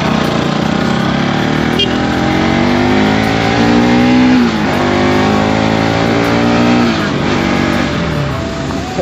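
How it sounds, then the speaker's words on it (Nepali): A motorcycle ridden on a rough, broken road toward Pokhara; its engine drones loudly and continuously, the pitch rising and falling as the rider revs and shifts, with no voices. "बाइकको त साउन्डै बवाल छ क्या, जब कुद्छ नि।"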